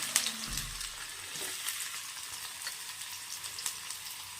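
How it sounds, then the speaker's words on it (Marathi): Finely chopped onion sautés in hot oil with a soft, continuous sizzle and a few faint stirring ticks. It is quiet and steady, with no voices. "कांदा छान परतून घ्यायचा आहे"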